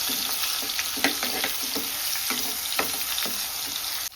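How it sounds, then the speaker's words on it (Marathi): Ginger garlic paste frying in hot oil, a constant close sizzle with crackling pops and soft scraping as it is stirred around the pan, ending abruptly. "अद्रक लसणाची सुद्धा आता परतून घ्यायची मस्त तेलमध्ये फ्राय करून घ्यायची"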